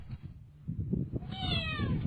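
A cat hiding under a car gives one clear, drawn-out meow near the end, close by, over low rumbling background noise.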